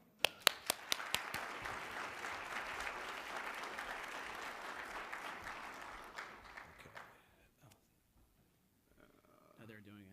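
An audience applauds to welcome two speakers at a talk on CMS home and community-based services settings rules, steady clapping that fades out after about seven seconds into near silence.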